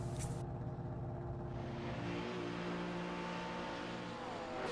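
A Porsche GT3 Cup race car drones along a French GT3 Cup championship track after an error, its engine a continuous steady roar from a distance with faint shifting tones and no voice.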